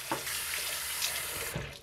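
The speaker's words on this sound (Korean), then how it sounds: "고사리도 깨끗이 헹궈주세요." Tap water pours steadily into a sink while soaked bracken fern is rinsed by hand, a close continuous splashing rush with brief stirring and sloshing bursts.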